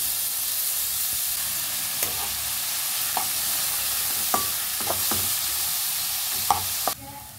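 Two finely chopped onions fry in oil with popped mustard seeds for a dried anchovy gravy, giving a steady sizzling hiss with occasional light knocks of a stirring spoon against the pan, close-up and alone.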